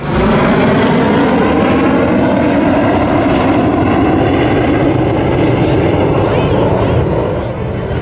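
Fighter jets such as Rafale, Mirage and Jaguar flying over the Purvanchal Expressway airstrip, a loud, continuous roaring engine rumble that sweeps broadly and dominates throughout, with voices faintly beneath.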